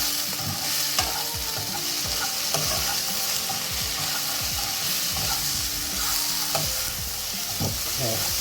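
Vermicelli kichidi being fried and stirred in a pan with salt, steady close sizzling under repeated scraping strokes of a spoon, continuous with no talk.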